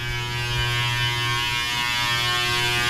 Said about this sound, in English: this is the dryer going off